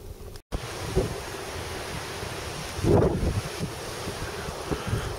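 Strong gusts of a high wind storm buffet the microphone outdoors near a bay, a steady roaring rush with a louder surge in the middle and a brief dropout near the start.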